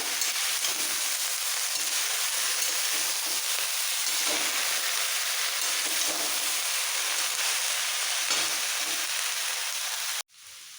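Cauliflower stems and chunks of cabbage frying in a pan for a Bengali winter chochhori, a steady loud sizzle with stirring scrapes throughout, cutting off abruptly near the end.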